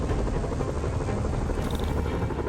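Helicopters in Marvel's Spider-Man video game give off a steady, loud rotor drone that fills the whole stretch without pause, with a faint high whine joining briefly near the end.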